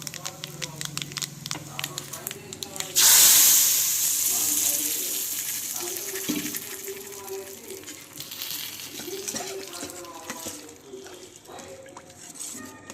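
Hot tempering with dried red chillies and turmeric is poured into a curd chutney and gives a sudden loud sizzle that slowly fades into a softer crackle, with a voice talking before and after.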